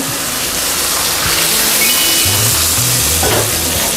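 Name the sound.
soy sauce and water sizzling in melted butter in pan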